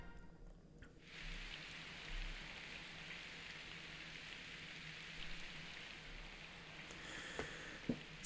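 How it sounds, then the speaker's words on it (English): Steady rain in the Fire Emblem Path of Radiance video game, a soft, even hiss with scattered faint drip-like ticks, continuous for several seconds. It plays alone at low level, with no talking. "Today is the day the princess returns, yet the goddess seems fit to bring rain."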